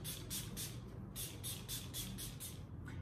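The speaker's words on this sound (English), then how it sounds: "so last but not least, setting spray." Short hissing bursts of makeup setting spray mist repeat rapidly, about ten quick pumps in a row, close and clear.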